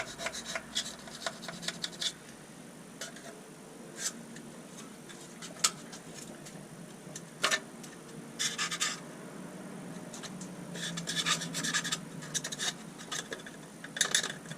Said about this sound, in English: just using a little flathead screwdriver. Some of that build up there.